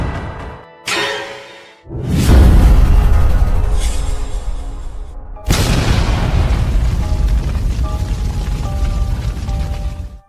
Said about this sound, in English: A violent explosion gives Zirin a headache